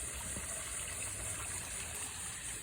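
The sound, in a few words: small garden pond waterfall with plant filter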